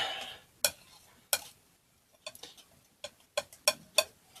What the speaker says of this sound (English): I'm going to mix quite a bit of that.